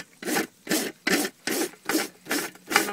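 Close, rhythmic rasping of a hoof rasp across a chronically foundered pony's hoof during a natural trim, with six even strokes about half a second apart and brief pauses between them, no talking.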